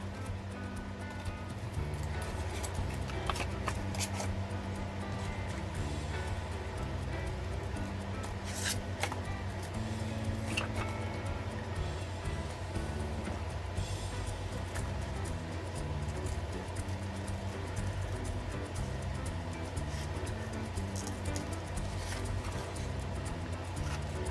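Scissors snip steadily through paper while cutting out a hand-drawn rabbit stencil, giving a continuous close crisp rustle with scattered sharper cuts throughout.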